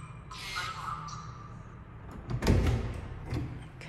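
A keypad-locked apartment door in Hai Phong clicks, unlatches and swings open with a thud and rattle partway through, near and fairly loud, after beeps and under light background noise.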